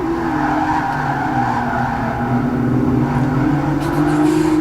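Nissan 350Z race cars in a racing video game drone along the track with steady engine tones and tire squeal, no talk over them.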